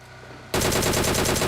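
Rapid automatic gunfire in a video game, a dense loud burst that starts abruptly after a quiet moment and continues steadily to the end.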